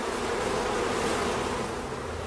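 Honey bees buzz steadily around a hive among white clover, a dense, even drone with no voices over it.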